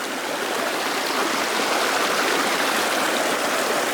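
A waterfall in the bush pours in a steady, broad rushing roar, close and constant throughout with no voices over it.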